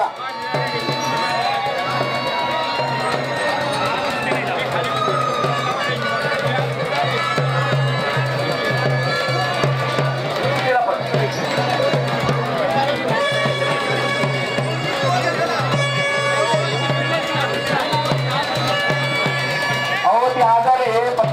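A dense crowd at a village kushti wrestling fair keeps up a loud, continuous roar of chatter and shouting, with an announcer speaking over a public address system throughout.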